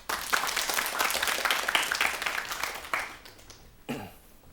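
A studio audience at a Korean storytelling broadcast claps in a loud burst that thins out after about three seconds, ending with a few scattered claps and a cough.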